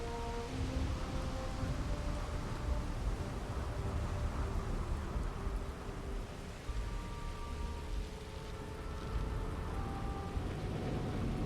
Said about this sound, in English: unless you like getting soaked by the rain